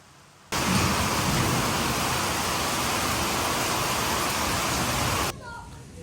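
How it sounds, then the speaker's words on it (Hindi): Heavy rain pouring down as a dense, loud, steady hiss that cuts in abruptly and holds for about five seconds before dropping away. "बहुत तेज बारिश आएगी"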